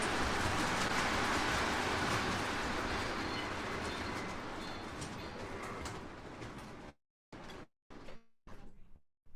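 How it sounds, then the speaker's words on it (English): A model train running on a home layout, its motor and wheels giving a steady, close rolling whir that fades and then drops out, followed by a few short bursts of the same noise as it stalls and restarts. "Oh, my train's stalling out."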